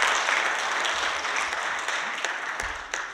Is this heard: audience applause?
yes